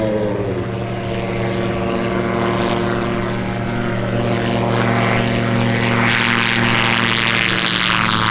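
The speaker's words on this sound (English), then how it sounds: "Here we are with the Bathawk, Gary Saitowitz, flying out of South Africa" A Bathawk light propeller aircraft drones steadily, its engine note pulsing as it passes nearby, growing louder and rougher toward the end as it comes overhead.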